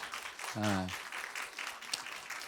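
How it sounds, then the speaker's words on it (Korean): A church congregation at a Sunday worship service breaks into soft, steady applause for a young man, with a brief spoken voice near the start over the clapping. "우리 이평한, 우리 박수를 한번."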